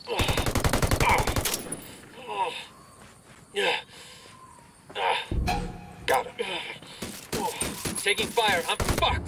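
Rapid machine-gun fire rattles loudly at the start of a multiplayer shooter match, followed by scattered bursts and single shots near and far, with voices talking over the combat.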